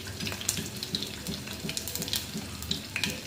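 Cumin seeds sizzle and crackle in hot oil for coconut rice, a continuous close frying hiss dotted with small sharp pops, with no voice over it.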